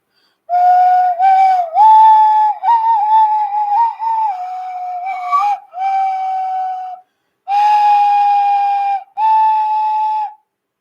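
A slow New Year's Eve rendition of Auld Lang Syne played on a single whistle-like tone, clear and close, in sustained phrases separated by short pauses with no talking.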